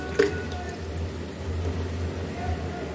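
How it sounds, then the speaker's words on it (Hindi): A bowl of yogurt goes into a chickpea pulao masala with one soft, wet squelch near the start, followed by quiet low background hum. "अब इसमें हम एक बाउल दही का डालेंगे"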